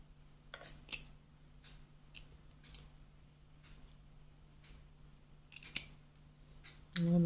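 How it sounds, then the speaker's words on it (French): Blueberries and pineapple being cut into small pieces for a fruit charlotte, giving faint, scattered snips and clicks at irregular intervals over a low steady hum, with one sharper click near the end. "Essayer de les couper plus petits parce qu'ils sont gros là."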